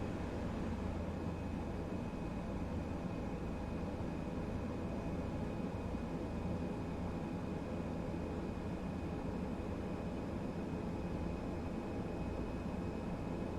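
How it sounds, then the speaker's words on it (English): ATR 72 turboprop engines idling as the aircraft taxis in a flight simulator, a steady, even drone with a faint high whine running unbroken and alone throughout. "So the airplane taxis all by itself in idle power."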